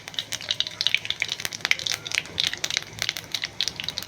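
Mustard seeds, chilli seeds and cumin crackle and pop in hot oil for a dal tadka, with rapid, close, irregular bursts of spitting sizzle.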